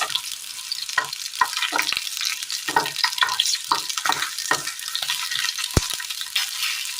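Steady oil sizzle of green chilies frying in a pan, with intermittent stirring scrapes and clinks cutting through the hiss, close and fairly loud.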